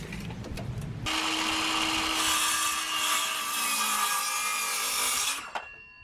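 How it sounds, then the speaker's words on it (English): A saw cuts through a 3-foot wooden board for porch railing, a loud steady rasping whir that runs for about four seconds and then winds down, preceded by light handling noises. "I'm going to measure, mark, and cut 4 boards at 3 feet"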